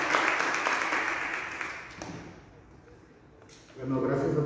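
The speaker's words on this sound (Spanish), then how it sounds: "Recibamos con un fuerte aplauso al licenciado Francisco Javier del Viento Silva" Applause for a speaker at a gastronomy and culture talk in Tuxpan, Jalisco: broad clapping that swells, tapers off into near quiet, then resumes strongly at the end.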